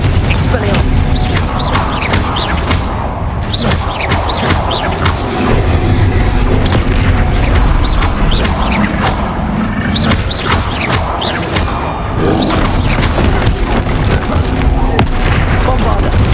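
Repeated spell blasts such as Bombarda and Confringo in the Hogwarts Legacy video game, booming continuously and loudly over a dense, busy mix of crashes and rumble with voices shouting throughout.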